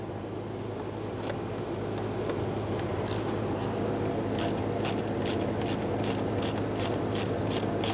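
Small socket wrench ratcheting a 5.5mm stud off the throttle body of a 1999-2006 Chevrolet Silverado 1500 4.3L, a run of quick close clicks over a steady low hum.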